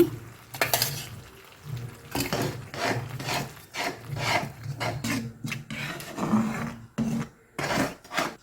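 Curd poured and worked into a cauliflower and potato gravy in a pan, with repeated rasping scrapes and rubbing strokes of a utensil against the pan in irregular bursts, fairly close and with no talk over them.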